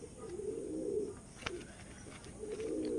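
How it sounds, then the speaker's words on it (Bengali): A restless, hand-held pigeon, a fancy breed offered for sale in Baruipur, gives soft low cooing calls close by, two rolling coos separated by a brief sharp rustle or flap. "এত ছটপটে পায়রা বন্ধুরা, হাতে ধরে রাখা যাচ্ছে না।"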